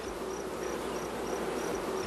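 Honey bees on a pulled hive frame give a steady, dense buzzing drone that carries evenly throughout, fairly close, with no voices.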